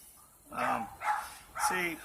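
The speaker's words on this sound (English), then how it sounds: "yapping dogs from the neighbors." Neighbors' small dogs yapping nearby, three distinct high-pitched barks in quick succession over an otherwise quiet background.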